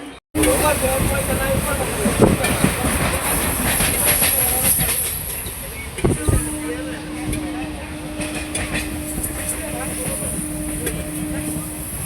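A train rumbles and clatters nearby with rhythmic wheel clicks, a sustained metallic hum and occasional squeals while arriving at Sealdah station, Kolkata; voices are faintly mixed in.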